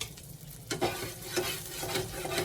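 Food bits being scraped from the bottom of a hot sauté pan used for chicharron, steady sizzling with a few distinct scraping strokes close by, no talk.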